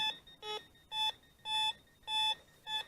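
A metal detector's electronic beeps pulse in a regular rhythm at an 1800s cellar hole in Maine, short tones repeating about every half second, fairly clear against a quiet background.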